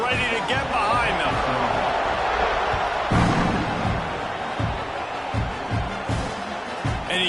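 A football stadium crowd roars steadily before kickoff, a loud sustained wash of cheering and noise with thumps, while a commentator talks over it.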